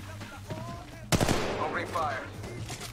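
Gunfire in the mobile video game Apex Legends Mobile, a sudden loud burst of shots erupting about a second in over a steady low game hum, with a voice speaking underneath.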